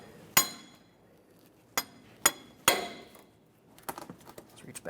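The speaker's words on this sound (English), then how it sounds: "I'm using a hammer and punch." Sharp metallic strikes of a hammer on a punch knocking through a plastic tab on a 2004-2008 Ford F-150, four spaced blows followed by a quicker flurry of lighter taps, close and loud.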